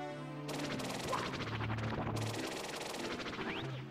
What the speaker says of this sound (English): Cool explosions with my footsteps.